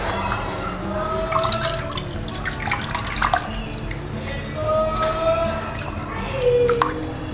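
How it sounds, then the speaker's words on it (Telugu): Tap water runs over marinated fish being rinsed in a kitchen, with uneven splashing and dripping and faint background voices and clatter, the flow rising and easing in irregular bursts. "మ్యారినేట్ అయిన తర్వాత మనం నీట్గా వాటర్ పట్టుకుని మంచిగా శుభ్రం చేయాలి."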